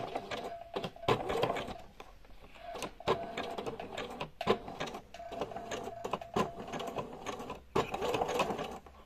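A sewing machine runs a zigzag stitch through two pieces of fabric, stitching in short mechanical bursts with brief pauses between them, close and fairly loud with no talk over it.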